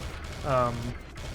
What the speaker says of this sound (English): You want to use your minigun first